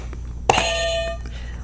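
Quiz buzzer on a community talk show, a single sharp electronic beep that sounds once and holds briefly before fading under a quiet room background.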